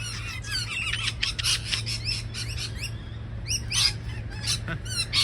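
Shrill wild lorikeet squawks and chirps burst repeatedly in a noisy, busy chorus, close by, with a steady low hum beneath, in Australia.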